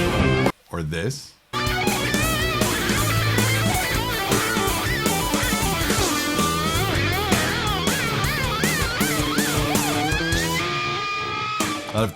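A distorted electric guitar with a tremolo system produces rapid, wobbling whammy-bar dips and rises, notes warbling and vibrating over a full backing track after a few short choppy bursts at the start.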